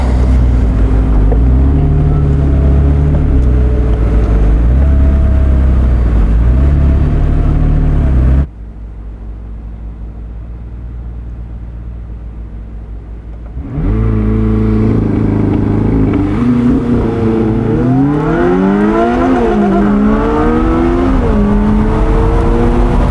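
McLaren 600LT and Lamborghini Huracan Performante supercars roar past at top speed, a loud engine drone that drops to a low rumble for a few seconds, then returns with rising and falling revs as the engines climb through the gears.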